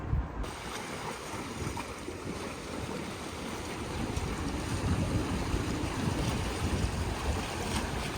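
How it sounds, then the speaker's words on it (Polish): Cold wind blowing steadily near the sea, a continuous broadband rush with low gusting rumble and microphone buffeting that swells slightly toward the end, with no voices. "Jakaś taka zimna ta pogoda, zimny ten wiatr."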